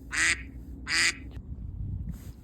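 Two loud, nasal duck quacks sound close by at a duck park, followed by quieter background noise and a faint third call.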